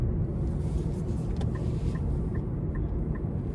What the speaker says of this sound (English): as I kind of give it throttle, it goes almost effortlessly